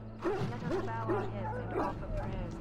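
Injured dog in the Dragon Age: Origins video game giving repeated soft whimpers and yips over a steady low hum, while people talk throughout.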